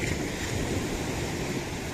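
Sea waves roll onto a beach after a low-pressure storm, a constant heavy roar of surf mixed with gusting wind buffeting the microphone, with no voices.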